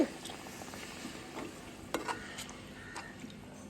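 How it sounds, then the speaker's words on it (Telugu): Tamarind fish curry is stirred in a pot, soft scraping strokes and a few light taps over a quiet simmering background, fairly faint and close. "ఒకసారి బాగా కలుపుకోనండి."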